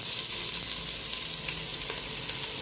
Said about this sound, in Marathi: हा आपला तांबडा रस्सा आता उकळी येतो आहे